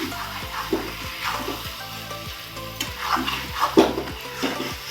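Cashew prawn masala is stir-fried in a pan, with repeated scraping stirs and soft knocks over a low sizzle, some strokes louder than others.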